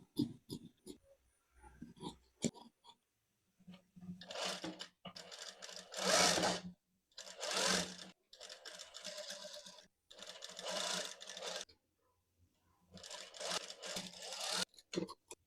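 A sewing machine stitches a neck strip onto kameez fabric in a series of short, close bursts separated by brief pauses, with no talking.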